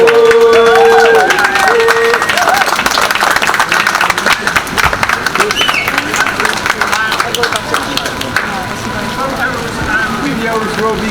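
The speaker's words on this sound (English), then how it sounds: "please give all our performers a good round of applause" An audience claps for performers at a writers' walk event in Cardiff, a lively round of applause that starts loud and slowly thins, with voices and a brief tonal sound mixed in near the start.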